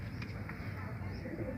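Pigeon cooing, from pigeons with dry purple feet, comes as soft low murmuring that runs steadily throughout, close and continuous, with a faint voice underneath.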